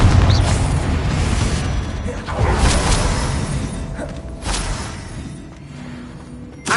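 A Confringo fire spell detonating in Hogwarts Legacy, booming blasts and whooshing bursts rolling over a dense, loud game soundscape, with several sharp impacts across the stretch and no talk.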